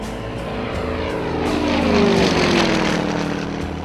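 A Yak-52 aerobatic airplane with a 360 hp nine-cylinder radial engine roars past, its propeller drone loud and close, swelling to a peak and shifting in pitch as it passes.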